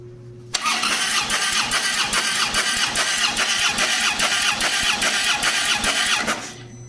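A cold engine cranks with the throttle held wide open, its starter turning over in a steady, rapid rhythmic chug that runs loud and unbroken for about six seconds before cutting off, with no voices.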